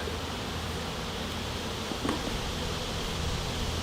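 Honeybees in a hive just opened after a nucleus colony was installed and fed sugar syrup, producing a steady, dense buzzing hum that stays even throughout with no talking.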